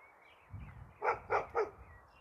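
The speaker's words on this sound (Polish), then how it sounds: "Sąsiada pies." Three quick, fairly faint barks from a neighbour's dog carry across a quiet spring garden, spaced evenly about a quarter second apart over soft outdoor background noise.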